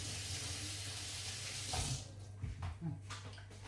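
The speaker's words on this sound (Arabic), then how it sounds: "اغسل ايدي بعد من ريحة البصل" Tap water runs while hands are washed at a kitchen sink to get rid of onion smell, a steady rushing splash that breaks off and turns into a few irregular splashes and drips near the end.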